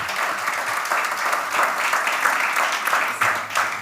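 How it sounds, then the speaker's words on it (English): A lecture audience breaks into a sustained round of applause, dense steady clapping from many hands filling the hall, with no voices over it. "A huge round of applause"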